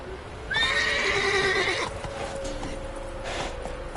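Roach, a horse in The Witcher 3, gives a loud, close whinny lasting over a second, followed by the steady clip-clop of hooves at a run and a second, softer neigh near the end.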